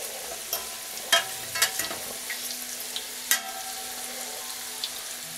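Samosas with thin dough frying in hot oil, a steady close sizzle with occasional sharp crackles and pops.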